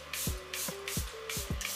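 Charlotte Tilbury Airbrush Flawless Setting Spray mists onto a face in four quick hissing pumps at a steady rhythm, close and crisp, each spray paired with a soft click of the nozzle.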